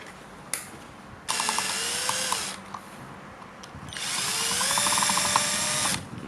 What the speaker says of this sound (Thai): ก็จะมีน็อตตัวยาวให้นะครับ 2 ตัว ก็ขันเข้าไปเลยนะ